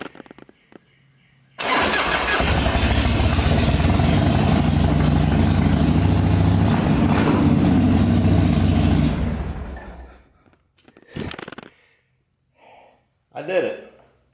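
A Harley-Davidson motorcycle engine with choke applied cranks and catches, then runs at a loud, steady idle for about seven seconds before shutting off, followed by a few brief noises and a short voice.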